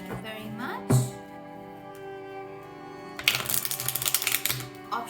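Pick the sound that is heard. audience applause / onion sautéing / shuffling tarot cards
shuffling tarot cards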